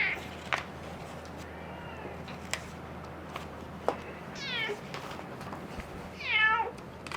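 An elderly 16-year-old hospice cat meows several times in a quiet room, with drawn-out harmonic calls rising toward the end, alongside faint handling clicks and low background hum.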